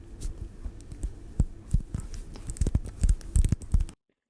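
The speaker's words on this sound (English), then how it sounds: "once they go, they feel like they have a bit of a ratchet system" A Hasbro X-Men '97 Wolverine action figure's knee joint ratchets as it is bent close to a microphone, a series of soft irregular clicks and thumps over handling noise, then cutting to silence.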